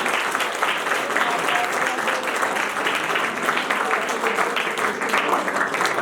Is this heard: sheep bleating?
no